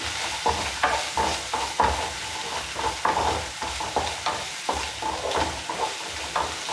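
Onions and a pinch of ginger garlic paste sizzle in a pan for veg Gobi Manchurian, a steady close frying hiss broken by repeated scraping stir strokes of a spoon against the pan, with no voice.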